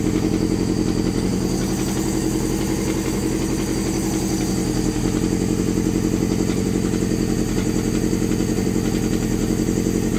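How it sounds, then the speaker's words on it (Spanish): A Honda CBR600 F2 motorcycle engine under restoration idles steadily nearby, a constant loud rumbling putter with a slight clatter and no pauses. "Moto arrancada."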